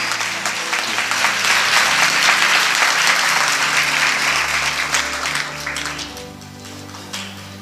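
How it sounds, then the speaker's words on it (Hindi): Loud, sustained applause from a church congregation at a Christmas service, dense clapping filling the whole stretch and easing slightly near the end, with low musical tones underneath. "मैं चाहूँगा एक दफ़ा हम खुदा के जलाल के लिए ज़ोरदार तालियाँ, ज़ोरदार"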